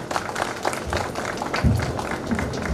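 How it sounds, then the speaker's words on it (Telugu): Applause at a get-together of the 1996-97 SSC batch in Tarlupadu, with a room of people clapping steadily at moderate volume through the whole moment. "మనందరి తరపున ఒక బిగ్ అప్లాజ్ తనకి"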